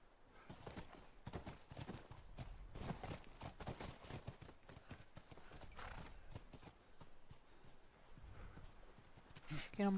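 Horse hooves clip-clop steadily through The Last of Us game, joined by an occasional horse whinny, fairly close and continuous, with someone talking over them.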